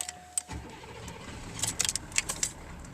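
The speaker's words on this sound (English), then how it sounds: "I'm going to fire it up here for the first time." A 1979 diesel Cadillac starting up: a brief click and crank, then the engine catches and settles into a low, steady idle, up close, with a few light metallic jingles over it.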